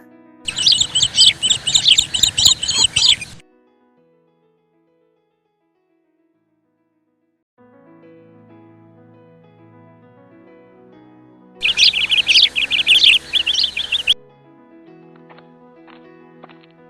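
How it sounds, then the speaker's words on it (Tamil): Many small birds chirp and tweet in a forest, bright dense song in two loud bursts separated by a quiet stretch with soft, distant calls. "இந்த காட்டில் நிறைய பறவைங்க இருக்குது"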